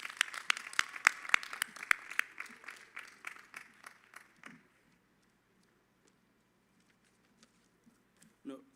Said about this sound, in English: Please give a round of applause for him.